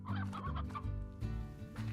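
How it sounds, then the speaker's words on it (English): Chickens in the video game Slime Rancher cluck repeatedly in short, rhythmic bursts, a close and fairly loud stream of game-animal clucks with no talking over them. "There's quite a few chickens around here actually."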